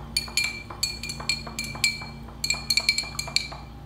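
A spoon stirs an activated charcoal drink in a glass, making a quick run of bright, ringing clinks in an irregular rhythm. The clinks are close and loud and heard alone.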